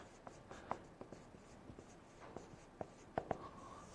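Handwriting on paper, written out close by: quiet pen or pencil strokes with scattered sharp taps and scratches against a faint background hush.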